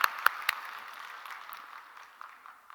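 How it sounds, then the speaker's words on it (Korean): A small church congregation at early morning prayer gives brief applause: a few distinct claps at first, then a light, thinning patter that fades over a couple of seconds. "우리 박수 한번"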